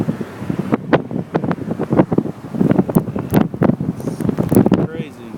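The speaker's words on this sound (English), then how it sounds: "You can hear the wind gusts." Strong wind gusts buffet the microphone during a storm on the Lake Michigan shore by a lighthouse, with crashing waves beneath; bursts of blustery rumble come and go while a person talks over them.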